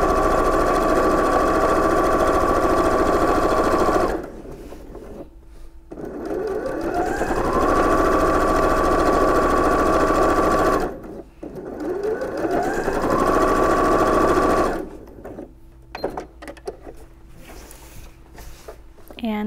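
Electric sewing machine stitching an apron: rapid, steady needle whirring in three long runs separated by short pauses with clicks and handling noise, close and fairly loud.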